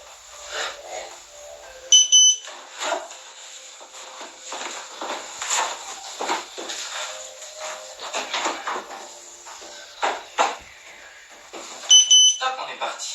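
Workout interval timer giving two short beeping bursts, one early and one near the end, clear and close amid the sounds of people moving and talking during an exercise session.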